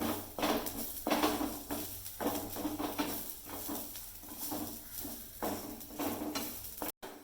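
Quail eggs fry in a pan with turmeric, giving a steady close sizzle broken by repeated scraping and tapping strokes of a spoon stirring against the pan, with no talking.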